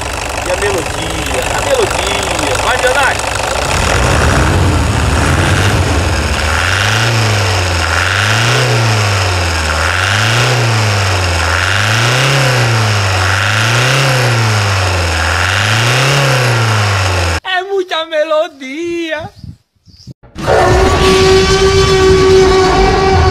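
A 2008 Toyota Hilux with the 2.5 engine, just washed after a leak repair, runs close by and is revved in a steady series of rising and falling swells, then briefly cuts out before resuming.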